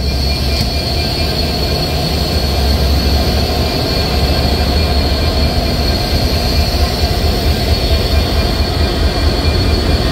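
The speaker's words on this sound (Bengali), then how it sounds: "ট্রেনটি ছেড়ে যাচ্ছে রাজশাহী রেলওয়ে স্টেশন" Sagardari Express intercity train pulling out of Rajshahi railway station at six in the morning, a steady, loud rolling rumble with a continuous metallic hiss of wheels and carriages throughout, no voices.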